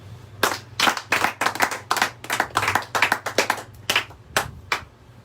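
A congregation at a church service clapping loudly and close by, in irregular bursts of sharp hand claps that thin out toward the end, with no clear cheering.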